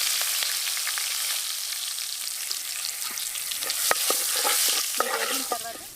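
Mustard seeds, cumin, turmeric and curry leaves fry in hot oil for a tomato roti pachadi, a bright dense sizzle with scattered crackles and pops growing busier toward the end, close and without talk.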